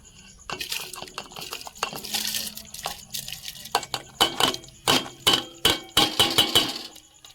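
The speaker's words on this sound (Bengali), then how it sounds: "এবারে এতে আমি সাবুটা ঢালবো" Sago pearls are poured into a pot of hot water on the stove, making a soft rattling patter and then a series of rhythmic clinks and splashy bursts, close and fairly clear.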